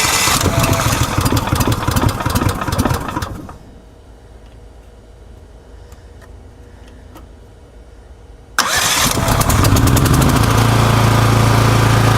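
A 14hp Briggs & Stratton gas engine fitted in a golf cart runs loudly, cuts out into near quiet for several seconds, then roars back to life abruptly and keeps running.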